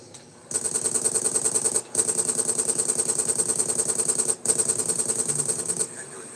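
An MP5 submachine gun fires in a video game in three long, rapid automatic bursts with brief gaps between them, steady and fairly loud with no talking.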